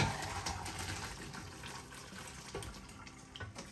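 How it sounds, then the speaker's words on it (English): Water pours and splashes steadily as cooked pasta is drained, fairly faint and continuous. "11 minutes later, drain."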